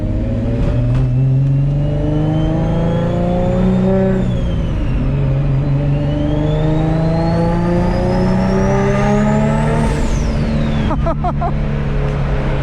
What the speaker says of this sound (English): now it's just a matter of going for a little drive and seeing how it goes